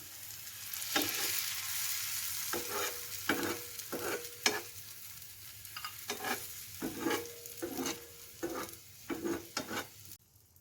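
Egg poured over a grated, mint-topped spread frying in a pan for an omelette: a soft, steady sizzle runs underneath while a utensil taps and scrapes in irregular clusters, fairly quiet and close.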